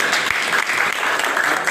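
A church congregation claps together during a Sunday gospel service, dense, steady applause filling the room for a couple of seconds with no voices on top.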